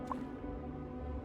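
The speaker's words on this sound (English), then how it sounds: "drink some serious water here" Water drinking in the survival video game Dune Awakening, a short liquid drip and squish with a faint gurgle over a steady low background hum.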